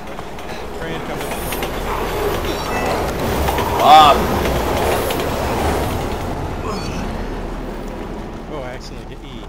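A train rumbles past in the video game Resident Evil 6, a loud continuous clatter that swells to a peak midway and then recedes, with someone shouting briefly over it.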